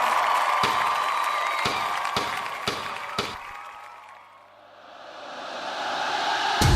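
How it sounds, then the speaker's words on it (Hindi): An audience at a televised dance reality show applauds and cheers for a young solo performer, a loud dense wash of clapping and crowd noise with a few sharp hits. It dips briefly and then swells back up. "एक बार जोरदार तालियां हो जाए परी अग्रवाल के लिए"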